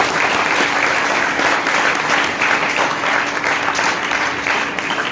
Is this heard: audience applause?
yes